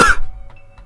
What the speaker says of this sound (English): So I've been coughing all over the place.